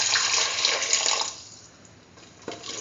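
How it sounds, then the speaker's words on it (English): About 200 ml of water is poured into a pot for a lentil and potato stew, a close, splashy rush of liquid that tapers off after a second or so, followed by a brief second splash near the end. "Put in 200 ml of water."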